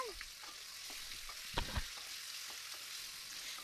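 Ingredients for egg biryani frying on a low flame with a faint, steady sizzle, broken by a couple of soft stirring knocks in the middle.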